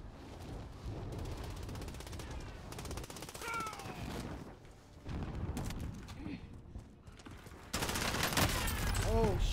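Sniper and other gunfire in the Warzone Plunder video game, heard as scattered cracks and short bursts of shots at a fairly low level, growing louder toward the end.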